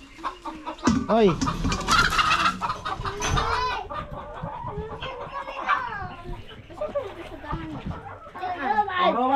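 Brooding hen clucking and growling close by on a farm, agitated throaty clucks mixed with a person speaking over it.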